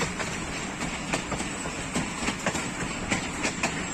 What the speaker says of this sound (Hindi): डाउन मिल्लत एक्सप्रेस मंडी बहाउद्दीन में अराइवल